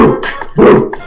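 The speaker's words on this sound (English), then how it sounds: "You hear the dogs in the background, they coming at you now." Dogs bark in the background of a rap freestyle track, a few loud overlapping barks in quick bursts mixed into the music.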